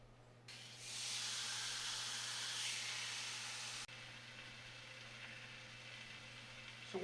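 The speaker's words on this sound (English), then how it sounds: "So once you lay the steak in the pan" A steak laid in a hot, oiled, lightly smoking pan gives a sudden broad hiss that holds steady for several seconds, then drops to a softer, continuing sizzle. It is close and fairly loud, and no one talks over it.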